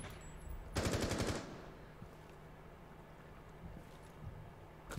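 Gunfire in Rainbow Six Siege: one loud, rapid automatic burst lasting about half a second, followed by a quiet room tone with faint scattered clicks and shuffles.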